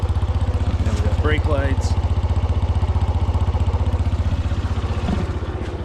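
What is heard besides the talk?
1986 Suzuki RB50 motorcycle engine idling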